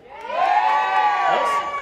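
Prepa 6 preparatory school audience packed in a hall, many young voices shouting and cheering together in one sustained loud roar that swells and holds before trailing off into scattered whoops.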